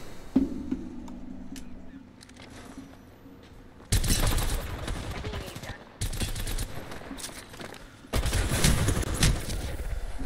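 Gunfire in the video game Apex Legends, dense bursts of rapid automatic shots and blasts in loud sustained volleys separated by short breaks, with faint game sounds beneath.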